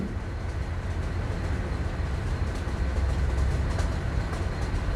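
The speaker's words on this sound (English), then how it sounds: "The train was speeding." A speeding passenger train runs fast along the track, a continuous dense rumble and rattle of wheels and cars, loud and close, with no voices.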